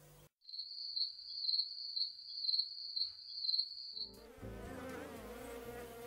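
Orthopteran insect stridulating, its femur rasp rubbing the wing veins: a steady high-pitched buzzing trill pulsing in regular bursts, close and clear for about four seconds before cutting to a different background sound.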